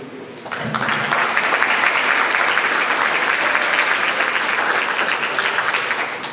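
Loud, sustained applause from a crowd welcoming board members at a town hall meeting, starting abruptly and holding steady as a dense clapping wash without voices.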